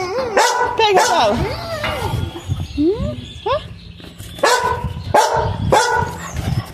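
A puppy barks and yips repeatedly at close range with short whimpers between, while someone speaks Portuguese encouragingly during play with a ball.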